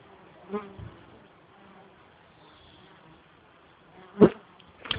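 Bees buzz around a hive, a low continuous hum with a few louder passes close by.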